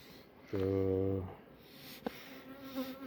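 Close honeybee buzz at an open hive colony, a steady droning hum lasting under a second that rises and then cuts off, with quiet talk before and after it.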